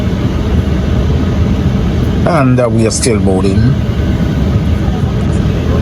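Steady engine drone from an Embraer EMB 120 Brasilia 30-seater turboprop while passengers board, loud and constant throughout, with a voice speaking briefly over it.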